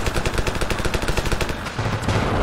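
Rapid, loud bursts of weapon fire and impacts in the shooter game Ravenfield, where a Bil Scalpel rocket launcher strikes a target, with a steady rattling rhythm that briefly dips before resuming.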